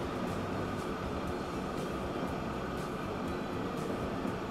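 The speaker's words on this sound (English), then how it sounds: "here comes the other train on the same line. Ooh, and the passenger train." Passenger train passing in the Transport Fever 2 game, a steady, fairly loud rumbling roar with a faint rhythmic clatter running unbroken throughout, no voices.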